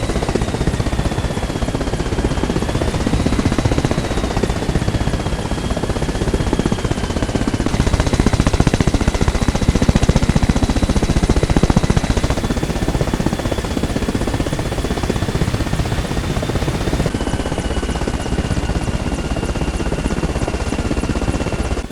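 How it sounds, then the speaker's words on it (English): Helicopter in the video game Arma Reforger, flying at top speed with the airframe under strain: a loud, constant rotor and engine roar with a steady high whine, heard alone for over twenty seconds. "when you're really pushing the helicopter to its absolute limits and reaching top speeds. It sounds like the airframe is genuinely under tension."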